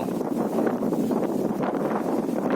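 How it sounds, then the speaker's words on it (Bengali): Strong wind during Cyclone Remal roars steadily across open village paddy fields, a continuous broadband rush with no pauses, buffeting close to the microphone. "আর মাঝে মাঝেই বিদ্যুৎ চমকাচ্ছে আর একটা ব্যাপক বাতাসের শব্দ"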